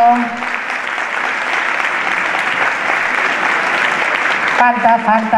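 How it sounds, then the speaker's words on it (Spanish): Steady audience applause for the team at a provincial early-literacy conference, filling the room for several seconds before a voice with tonal speech cuts back in near the end. "Vamos con un aplauso a todo este equipo que trabaja tanto"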